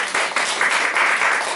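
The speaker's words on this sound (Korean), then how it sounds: "우리 박수로 환영하겠습니다" A congregation at a Sunday church service claps to welcome a visiting guest: a brief burst of dense, steady applause, fairly loud and close, with no talk over it.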